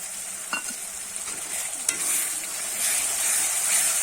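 Spiced paste of soaked cumin, coriander and chili frying for a crab curry, a steady close hiss with brief stirring scrapes and clinks, no talking.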